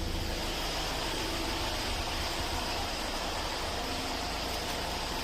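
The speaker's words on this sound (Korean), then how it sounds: "잠긴 상태에서 원격 시동 되었고요." A Hyundai Grand Starex van's engine runs steadily after a remote start while the vehicle stays locked, a constant broadband hum and hiss with no voices, even and unbroken throughout.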